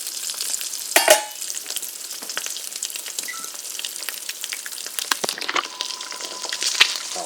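Eggs frying in a pan with a steady, close crackling sizzle, broken by occasional louder pops and a few clinks of a utensil, with no talking.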